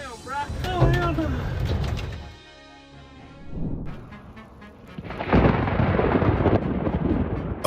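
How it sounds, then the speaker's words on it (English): A thunderstorm in Texas rumbles with loud, rolling thunder after a nearby lightning strike, a deep crash swelling in over a stretch of quieter rumble, while a person shouts excitedly early on. "A storm chaser narrowly avoids a lightning strike as it crashes down nearby"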